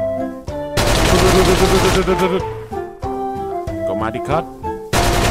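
A powerful gun in a zombie game fires a dense, loud burst of rapid shots, with shorter bursts and single cracks around it, as a zombie horde closes in at a house; someone talks briefly between volleys.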